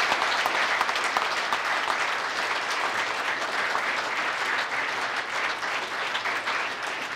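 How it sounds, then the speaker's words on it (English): Steady, loud applause from an audience at a St. Paul Police Department awards ceremony, dense clapping that fills the room evenly and continues without a break. "Let's give him a loud round of applause, please."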